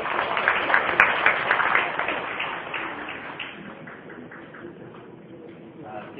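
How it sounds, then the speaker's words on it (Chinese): A hall audience at a Mid-Autumn thanksgiving gathering applauds warmly to welcome a speaker: dense, sustained clapping that is loud at first and slowly thins out, with voices mixed underneath. "我们用热烈的掌声来欢迎我们张简凡师"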